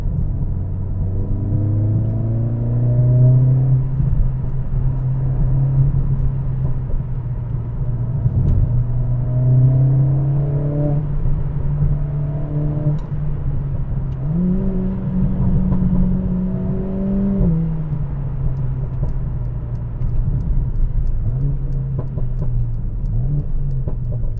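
A Mercedes CLA45 with a new exhaust accelerates hard on a country road, its engine droning loudly and rising in pitch through several gear pulls, with brief dips between shifts.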